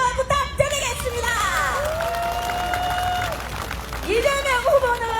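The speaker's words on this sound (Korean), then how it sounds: "큰 박수 부탁드리겠습니다." Crowd applauding and cheering at an outdoor campaign rally at Dongmun Rotary in Jeju City, a dense steady roar of clapping and shouts with whoops, sustained throughout with a voice rising above at moments.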